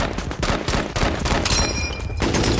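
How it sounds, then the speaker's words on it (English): M1 rifle firing in a war scene, dense loud gunfire with overlapping shots and a faint high metallic ring of an ejected cartridge within the barrage. "the distinctive ping of the empty cartridge as it would pop out of the M1 rifle"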